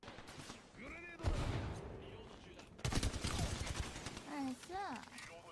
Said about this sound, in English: The crazy hip fire.